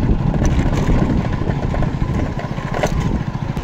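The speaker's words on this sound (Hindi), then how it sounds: "गाइस बाइक ना शोर कर रही है" A motorcycle making an unusual, broken-sounding noise, its engine running with a steady low rumble and rattling pulses, close and loud throughout.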